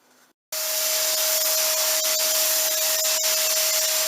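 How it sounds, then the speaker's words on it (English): A vacuum cleaner switches on after a brief pause and runs steadily with a loud, high-pitched whine and airy roar, close up. "I think I'm gonna use a vacuum cleaner"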